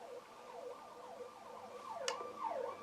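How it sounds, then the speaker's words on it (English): A wailing emergency siren sweeps up and down repeatedly outside a window, faint and distant, with a sharp brief click partway through. "There's your sirens outside the window"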